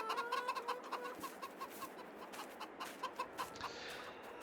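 Free-range chickens in the Farming Simulator 22 video game cluck in a steady run of short, repeated notes, with a faint ambient bed beneath and no talking.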